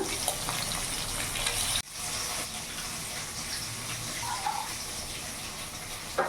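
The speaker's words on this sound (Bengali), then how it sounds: "এখানে আমি শীষ পালংটা ভালো করে কেটে ধুয়ে নিচ্ছি।" Chopped spinach stems are washed under running water in a kitchen, a steady close splashing and gushing that breaks off briefly, then continues with light stirring.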